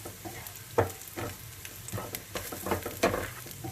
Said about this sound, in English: And the coriander seeds, they go in, slightly crushed. Give that a stir.